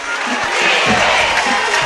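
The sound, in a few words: crowd cheering at a high school football game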